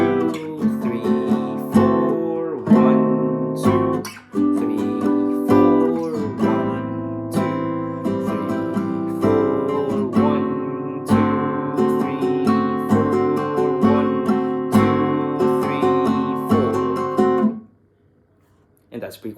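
Pre-chorus chord progression of a song played as sustained harmonic chords with steady changes across bars, then stopping abruptly into near silence at the end.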